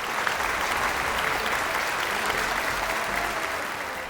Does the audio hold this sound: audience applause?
yes